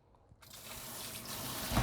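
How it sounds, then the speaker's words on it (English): Running water pours over cabbage being rinsed for kimchi, starting from near silence and swelling into a steady, broad splashing rush that grows louder toward the end. "dump all this cabbage in here and give it a nice rinse"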